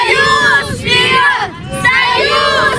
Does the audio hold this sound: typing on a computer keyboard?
no